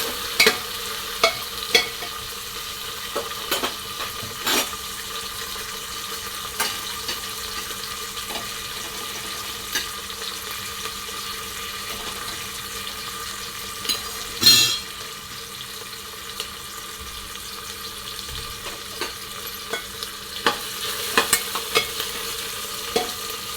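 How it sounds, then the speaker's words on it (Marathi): Onion sautéed and stirred in a pan for khichdi rice: a soft, continuous sizzle with frequent sharp spatula taps and scrapes, close by, with no talking. "बघा आपला कांदा परतून घेणार आहे छान छान"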